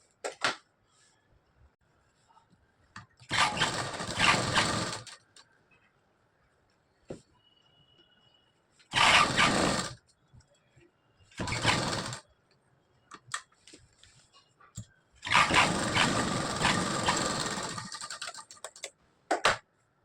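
Sewing machine stitching the layers of a half jacket, with several separate bursts of rapid stitching between short pauses, fairly close and alone.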